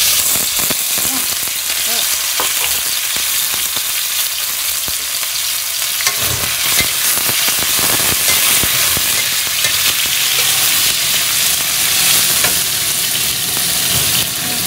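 Pork sizzling and frying in hot cooking oil in a pan, a loud continuous crackling hiss with occasional stirring clatter throughout.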